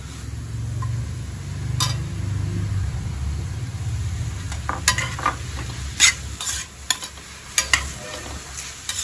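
Tomatoes for mutton biryani sizzle in a pan while being stirred. A low rumbling fry is heard first, then sharp, irregular scrapes and clatters of the spoon against the pan, close by and with no talking.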